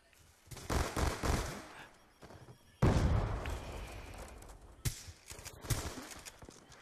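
Video game gunfire with shotguns in play, heard as clustered sharp blasts and rattling bursts, one heavy boom near the middle, loud and close with some talk mixed in.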